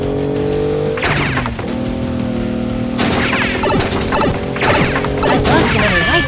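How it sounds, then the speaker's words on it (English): A motorized LEGO Technic car drives into a hard sugar-glass wall, giving loud shattering crashes at several points over a constant whirring motor drone. "The next obstacle is glass wall crash"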